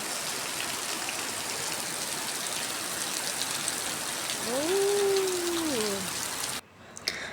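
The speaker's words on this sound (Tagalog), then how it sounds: "O pumapatak ang ulan." Steady rain patters on the roof of a nipa hut during the rainy season, a dense, even hiss throughout, with a brief voice-like tonal call near the end before the sound cuts off abruptly.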